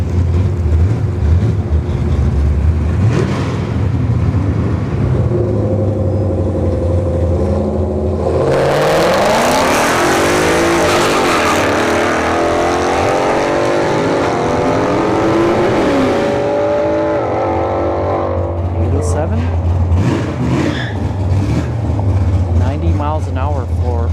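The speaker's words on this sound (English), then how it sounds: "S55 versus a C7 Grand Sport on the left lane. Don't be surprised if the Mustang wins here." A Ford Mustang S55 and a Corvette C7 Grand Sport drag race at a dragstrip, engines roaring loud and close with a rising, swelling wail through the middle as they accelerate, while a voice talks over the noise.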